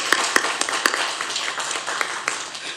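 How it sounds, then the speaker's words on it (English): Scattered applause from a small group at a school board meeting, a few sharp claps at first then a softer, uneven patter of hands, fairly faint and without talk. "We're definitely going to clap that up."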